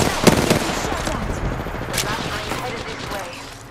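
Enemy gunfire in a shooter video game, rapid automatic bursts loud and close, clattering under a speaking voice.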